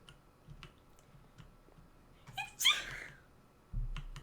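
A single sharp sneeze bursts out near the midpoint against a quiet room, with faint ticks and soft thumps before and after.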